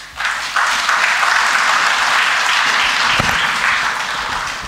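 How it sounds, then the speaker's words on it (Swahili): Audience applause at a Tanzanian government launch event for electronic visa and residence permit services, a loud, dense clapping that swells quickly and holds steady before easing slightly. "Makofi kabisa"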